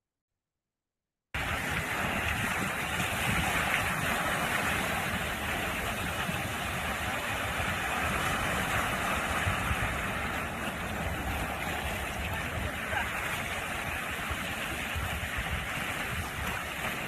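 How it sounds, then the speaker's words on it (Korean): Strong waves surging against the rocky shore at Homigot in Pohang, a steady loud roar of surf and rushing water filling the whole stretch without pause. "밀려오는 파도 정말 거세죠"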